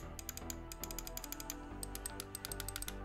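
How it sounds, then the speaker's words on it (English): Side buttons on an older Lamzu Atlantis gaming mouse clicking in quick bursts, sharp loud snappy clicks repeated in irregular clusters close to the microphone, alone without talk. "let me give you a quick sound test real quick of the side buttons"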